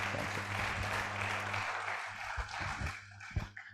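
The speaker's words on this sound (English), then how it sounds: "Please let's give him another round of applause." A symposium audience at an emergency medicine conference applauds a speaker, faint, somewhat distant clapping over a steady background hum, thinning into a few scattered claps at the end.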